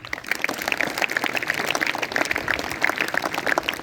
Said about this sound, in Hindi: ताली बजाओ इस बच्चे की